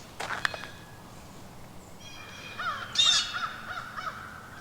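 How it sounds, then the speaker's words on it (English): Crows caw from trees along a nature preserve trail, a few harsh calls at a distance over quiet outdoor ambience, with an early burst followed by a clearer cluster of caws. "That was the crows."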